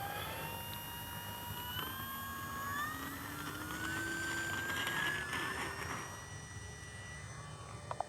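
An FMS 1500mm Cessna Skylane 182 RC airplane takes off: its electric motor's whine climbs steadily in pitch as it speeds up and lifts away, heard at moderate distance over outdoor background noise, with no talk.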